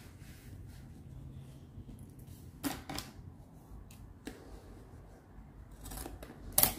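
Scissors cutting through trouser fabric, quiet snipping and rasping close up, with a few sharper snips, no talking.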